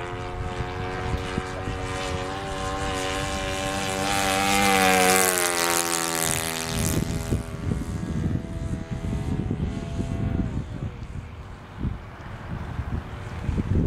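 A model airplane's propeller engine drones steadily at a flying club airfield, loud and close, its pitch rising and then falling as it passes, with wind noise on the microphone.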